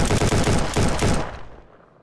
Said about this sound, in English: is that guy shooting at me?